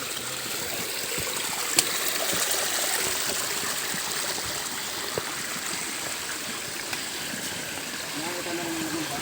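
A mountain stream flows steadily beside a hiking trail, a continuous rushing, trickling wash of water close by, with footsteps and faint sounds of hikers moving through it.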